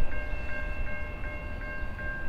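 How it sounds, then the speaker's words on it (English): An Amtrak passenger train sounds its horn in a salute near an intermodal yard, a steady sustained tone held over the constant rumble of the passing train throughout. "There's a nice horn salute"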